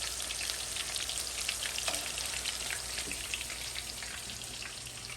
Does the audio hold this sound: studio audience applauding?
no